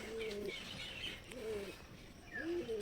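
Pigeons kept in a cage coo softly as two birds are let out, three low rolling coos spaced about a second apart with faint chirps above, close and quiet.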